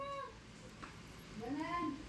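Cats and kittens meow quietly, a couple of short mews at the start and a higher-pitched kitten cry near the end over a faint background.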